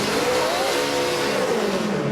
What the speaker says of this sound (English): thanks to Mark Martin revving his engine right there